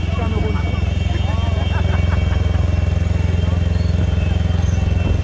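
Motorcycle engines run in a street celebration welcoming a champion in Douala, Cameroon, a continuous loud, close rumble with crowd noise and voices over it.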